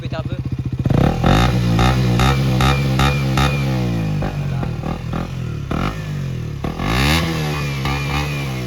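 A 2024 KTM RC 125 motorcycle engine is revved repeatedly from idle, sharp throttle blips swelling and falling back, loud and close, with occasional voices in the background.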